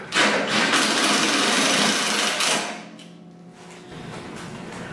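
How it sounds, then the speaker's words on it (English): Screws are power-driven into an aluminum substructure for a Club Car build, a loud continuous whirring burst of about two and a half seconds, then a quieter buzzing run. "Running in those four screws firmed it up quite a bit."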